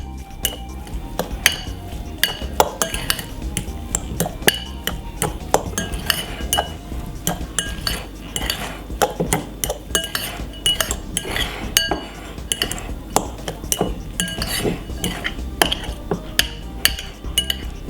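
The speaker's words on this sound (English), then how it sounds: "And also gonna pop a little bit of olive oil. Nice one. Give it a stir." Olive oil being stirred in a pan for vegan stuffed peppers with vegetable rice, a utensil tapping and scraping the pan in a rapid, continuous clatter close by, with no talk.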